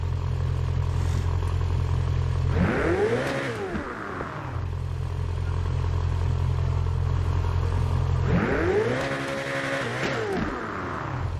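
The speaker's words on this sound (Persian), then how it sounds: "این بک فایر ها رو کجای دلم بذارم؟" A car engine in GTA revs hard twice, each rising and falling roar crackling with exhaust backfires over a steady low idle drone.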